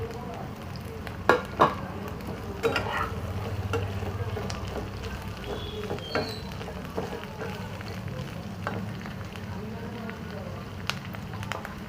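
Onion and capsicum fry in oil in a pan for veg manchurian, a steady soft sizzle with occasional scraping and clinks of a spoon stirring, fairly faint and close.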